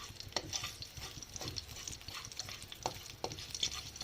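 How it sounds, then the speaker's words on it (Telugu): Oil crackles and sizzles steadily as tempering spices fry in a pan for cashew chutney, with occasional brief spits and soft stirring clinks, no voices. "వేసి బాగా ఫ్రై చేసుకోండి వాటిని."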